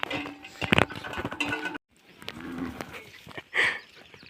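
Male buffalo from a Gujarati village bellowing outdoors, with two or three loud, drawn-out lowing calls close by, separated by a brief silent gap.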